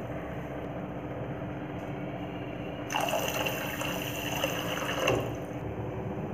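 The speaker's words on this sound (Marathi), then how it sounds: "2 कप पाणी मिक्स करायचं." Water is poured into sugar in a pot to make gulab jamun syrup, a steady close splashing pour lasting a couple of seconds over a low background hum.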